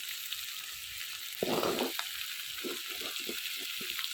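Large hilsa fish pieces frying in a kadai, a continuous soft sizzle with a brief louder burst of spattering and a few light utensil taps.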